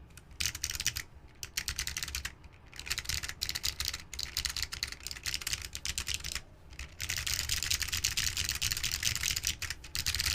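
Rapid clicky keystrokes clatter from a mechanical keyboard with Matias click switches in a resin case, typed in steady bursts with short pauses, close and crisp.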